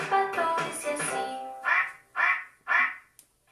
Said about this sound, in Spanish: Quieren oír, el pato dice así.